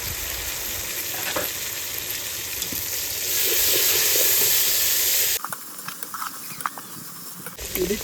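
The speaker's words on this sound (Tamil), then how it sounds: "வெங்காயமெல்லாம் நல்லா வதங்கிட்டு இப்போ நாம் தக்காளியை சேர்த்துறோம்" Tomatoes hit sautéed onions with ginger and garlic paste in a hot pan, giving a loud hissing sizzle that swells, then drops to quieter crackling with stirring taps.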